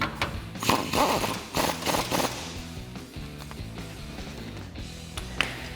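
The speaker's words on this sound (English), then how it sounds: "I'm going to take my 21 millimeter on my 1/2 inch impact gun, and we're going to tighten this one up." A 1/2 inch impact gun with a 21 millimeter socket tightens a nut on a 2012-2018 RAM 1500 rear suspension install, giving several rapid clattering bursts up close, then fainter mechanical rattling.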